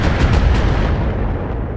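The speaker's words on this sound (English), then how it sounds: "I'm under heavy fire" Mech weapons fire in the Battletech video game as a loud, continuous barrage of booming blasts and rumbling impacts, heavy and close, with no voices.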